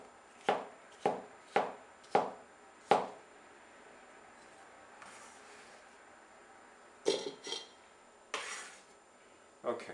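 A knife slices vegetables for a Greek salad in quarter-inch pieces on a cutting board. Five evenly spaced crisp cuts are followed by a pause and then a few more, close and quiet with no talking.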